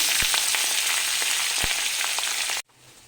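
Onion, ginger and cinnamon frying in hot oil in a pan: a steady, bright sizzle with small pops and crackles, close and loud, cutting off abruptly near the end.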